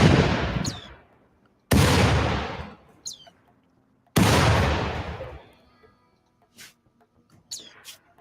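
Defensive turrets firing at raiders in the video game Rimworld: three heavy booming shots spaced a couple of seconds apart, each decaying slowly, followed by a few sharper distant pops and clicks.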